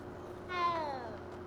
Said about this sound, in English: I just like petting the kittens because they're so adorable.